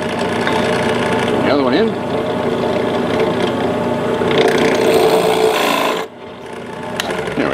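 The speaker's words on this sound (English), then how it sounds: "countersink the mounting holes at each end just slightly" A drill countersinking mounting holes for a DIY kayak fishing rod holder, giving a steady grinding rasp that runs for about six seconds before cutting off, with someone talking over it.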